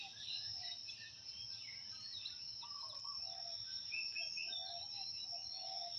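Woodland ambience with crickets and other insects trilling steadily and birds chirping intermittently, faint and distant, no voices or traffic noise.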